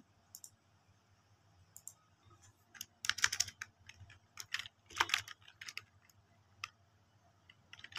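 Quiet typing on a computer keyboard while a prime-number program is entered for a math lab practical, with scattered soft keystrokes building into denser bursts of clicks and a few isolated taps near the end.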